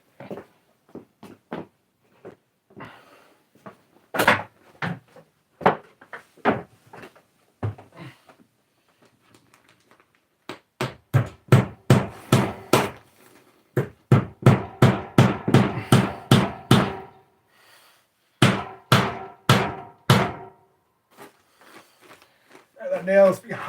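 Repeated hammer blows drive a nail into a bedroom wall during a remodel, sharp close knocks coming in irregular clusters with short pauses, some strikes quick and rhythmic, others spaced apart.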